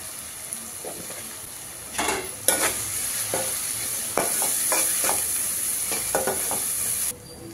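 Ginger garlic paste frying in a pan with turmeric added, a steady sizzle broken by repeated scraping stirs that grow louder midway, with no talking.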